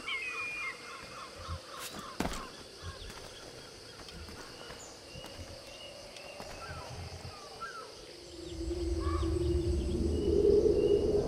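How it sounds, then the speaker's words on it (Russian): Bird calls chirp and trill in Assassin's Creed IV Black Flag, scattered over an ambient wildlife background, with a low rumbling swell building toward the end. "Птичка."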